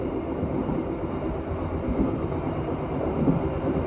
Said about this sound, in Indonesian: Bersilang dengan kereta api angkutan Pulep. Ditarik CC204.